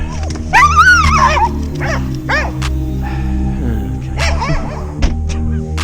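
Several excited dogs bark and yelp close by as they are let out, with loud overlapping barks and high whining yips clustered in bursts over a steady background hum.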